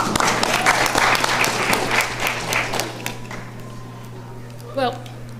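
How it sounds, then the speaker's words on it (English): At a city council meeting, an audience claps for a newly sworn-in councilwoman. The applause is loud for about three seconds, then fades into a low hum with murmuring and a short voice near the end. "You can applaud for her, too."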